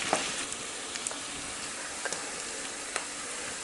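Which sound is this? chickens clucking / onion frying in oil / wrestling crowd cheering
onion frying in oil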